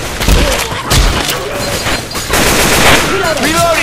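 Rapid bursts of gunfire in Left 4 Dead 2, set in a shopping mall, crackle loud and dense with booming impacts, and voices call out over the shooting.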